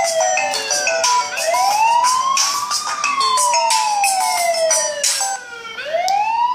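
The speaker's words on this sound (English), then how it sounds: "you got that siren." A loud electronic alarm siren sounds from an Eye24 camera control panel, its pitch sweeping repeatedly up and down in a wailing cycle with no other sound.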